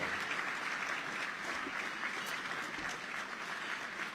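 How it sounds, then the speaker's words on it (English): An audience at a justice-foundation gala gives a steady round of applause, continuous moderately loud clapping from a large room with no talk over it. "we can give her and you a round of applause"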